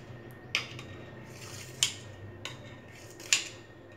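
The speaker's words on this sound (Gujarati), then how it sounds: "આ રીતે આપણે ચોરસ શેપમાં કાપી લઈશું." A knife cuts a tray of freshly steamed Gujarati idada into square pieces. Four sharp, close clicks of the blade against the tray come at uneven intervals over a quiet kitchen background.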